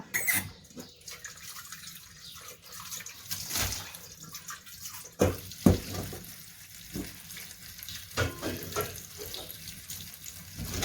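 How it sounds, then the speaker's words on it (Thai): Cooking water is poured off boiled bananas into a sink, followed by running tap water as the bananas are rinsed, with steady splashing, a few sharper clatters and drips, close and moderately loud. "เราก็เอากล้วยที่เราต้มสุกแล้วนะคะ มาเทเอาน้ำออกนะคะ"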